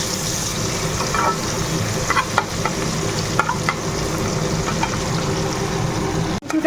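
Onions and marinated spices fry in a pan with a steady close sizzle, broken by occasional stirring scrapes and a brief clatter near the end.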